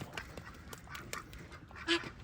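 A duck gives a single short, close quack near the end, standing out over a low background of rustling and handling noise.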